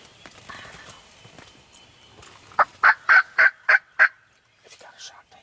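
Wild turkey gobbler on a spring youth hunt in Tennessee woods, a rapid burst of about six loud, close gobbling notes after a quiet stretch of faint rustling, followed by softer calls.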